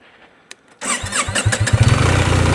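A BMW R1300 GSA adventure motorcycle engine cranks after a brief quiet moment, then catches and settles into a loud, close, steady idle with a pulsing rhythm, no talking.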